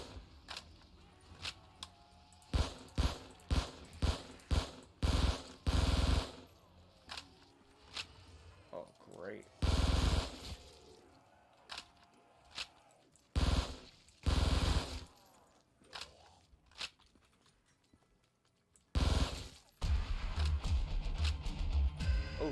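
Rapid bursts of automatic fire from a Scorpion gun in Black Ops 3 Zombies, sharp clustered shots coming in short volleys with gaps between them, mixed with other game sounds at a fairly low level.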